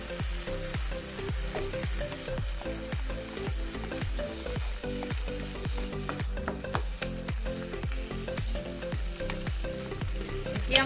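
Butter mushrooms in a pan hiss and sizzle steadily after water is poured in, with soft rhythmic crackles and bubbling close up, fairly quiet and with no talking.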